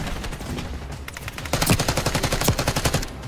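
Rapid bursts of automatic gunfire in Call of Duty: Black Ops 6, starting faint and sparse, then turning into a loud, steady stream of evenly spaced shots in the second half.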